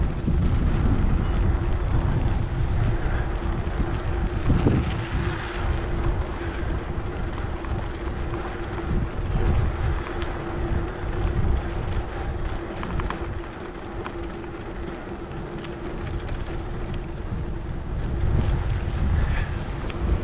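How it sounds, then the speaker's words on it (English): Strong wind gusts buffet the microphone on a gravel bike ride north of Gainesville, Texas, a constant loud roaring rumble that swells and dips throughout. "We're getting some big wind gusts."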